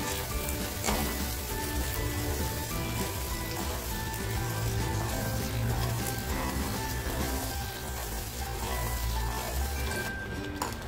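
Masala with garlic and Kashmiri chilli powder fries in hot oil in a kadai for a Malvani fish curry, a loud, continuous close sizzle with occasional faint clinks of a utensil.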